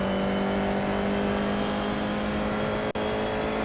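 An F4 race car engine holds a steady, loud, high-pitched drone at Watkins Glen in a racing simulator, broken by a brief cut near the end, with no talking.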